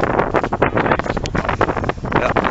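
Cold wind outdoors in the Netherlands buffets the microphone in loud, gusting rumbles and bursts that fluctuate throughout.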